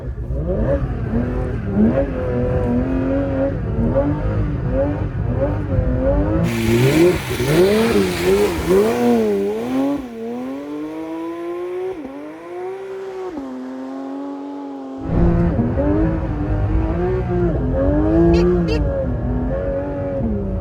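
A Porsche 992 GT3 RS drives and revs hard in snow, its engine note repeatedly climbing and dropping close by, with a brief lull before revving resumes; people talk over parts of it.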